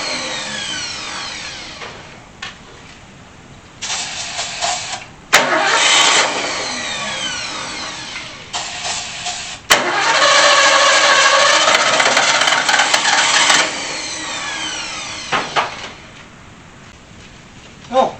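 A 1964 Ford Falcon engine cranks repeatedly after 47 years unused, with several bursts of starter whir and brief catches that fire and die. One longer run near the middle stutters to a stop, loud and close.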